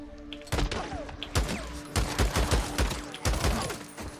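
Gunfire in the zombie game Days Gone comes in repeated sharp shots, single and in quick clusters, loud and close against a steady background hum, with no talking.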